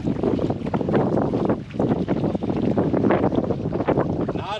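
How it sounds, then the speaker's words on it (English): Loud, continuous wind at a riverbank roars and buffets the microphone throughout, a dense low rumble with no clear voices. "Rough conditions, it is windy."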